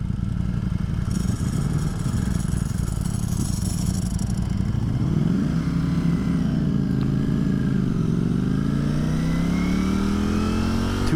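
Two 2022 Ducati Streetfighter V4 motorcycles, a V4S and a V4SP, idle loudly with a rattling clutch, then rev up in rising and falling sweeps, continuous and close with no talking.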